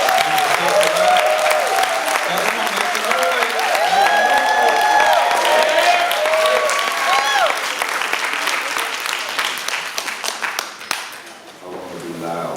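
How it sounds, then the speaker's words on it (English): Loud, sustained applause and cheering from a crowd at a Kwanzaa celebration, greeting the start of a candle lighting ceremony and tapering off near the end. "Come on, y'all strong round of applause."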